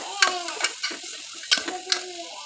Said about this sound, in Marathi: छानपैकी हलवून घ्यायचे आहे